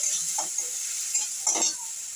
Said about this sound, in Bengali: হলুদ গুঁড়ো গুঁড়ো দিলাম পরিমাণ মতো মশলাটা আমি কষিয়ে নিচ্ছি